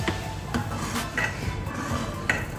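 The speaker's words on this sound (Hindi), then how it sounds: "अब हम इसे मिक्स करना स्टार्ट करेंगे, और अब हम जब तक ये ड्राई होने पे नहीं आ जाएगा तब तक हम इसको मुसलसल हिलाते रहेंगे" A spoon stirring kheer of rice and milk in a pot on a low flame, making repeated metallic scrapes and clinks against the pot in a steady, moderately loud rhythm.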